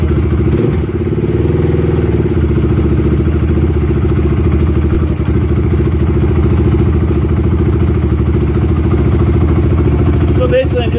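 Honda TRX450R ATV engine running steadily at a loud, close idle, with a brief thump as it is put in gear and a clunk near the end.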